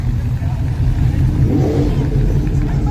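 A BMW and a Mustang rev their engines at a small-tire street drag race, a loud continuous throaty drone that swells midway, with crowd voices underneath.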